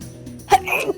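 A single short sneeze bursts out about halfway through, close and abrupt, followed by brief breathy noise in an otherwise quiet room.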